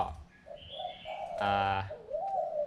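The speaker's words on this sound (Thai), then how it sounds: "นกตัวนี้เป็นนก ป่าภูเขาสูง ที่ เสียงดี" A high mountain forest songbird calls in short cooing and whistled phrases, with one brief bright harmonic burst in the middle, over faint background hiss.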